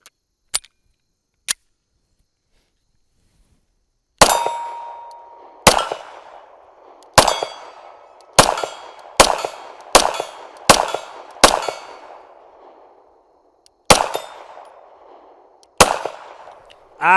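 Pistol shots from a Taurus G3C fired at a steel plate about 40 yards off, sharp loud cracks with ringing tails, first two isolated, then a rapid irregular string of about ten more, with no talking.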